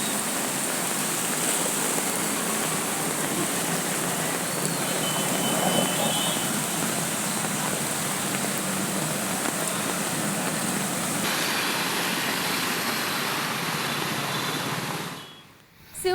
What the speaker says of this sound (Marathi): त्या ठिकाणी मोठ्या प्रमाणात पाणी रस्त्यावरून वाहत आहे।